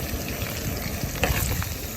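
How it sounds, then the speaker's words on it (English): Breakfast food sizzling and frying in a pan on a camping stove before scrambled eggs go in, a steady close crackle with occasional stirring scrapes. "cooking in the pan."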